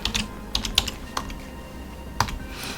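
Computer keyboard keys are struck in a short, sparse burst of typing, about half a dozen separate crisp clicks with gaps between them, close and clear over a low background hum.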